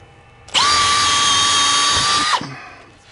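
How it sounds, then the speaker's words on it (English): A power drill pre-drills a hole in a flat wall to mount an EGO 650 leaf blower, whining loudly and steadily for about two seconds before spinning down. "first I'm just gonna pre-drill the hole."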